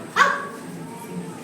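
A child imitating a dog's bark, one sharp close yelp-like woof at the start that trails off, followed by quiet background sound.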